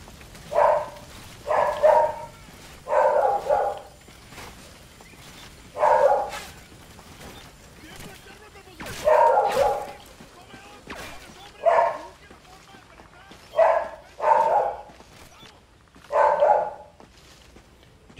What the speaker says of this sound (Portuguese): Essa cachorra não para de latir, velho